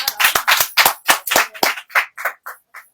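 A church congregation claps loudly in a steady, fast rhythm of sharp bursts that ease off toward the end, with no talking.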